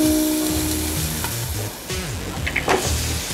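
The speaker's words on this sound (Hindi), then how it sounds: "इसको हम थोड़ा सौते करेंगे" Vegetables with salt sauté in a pan for Schezwan chilli potatoes, giving a steady close sizzle with a few stirring clinks near the end, over a faint tonal hum in the background and with no speech.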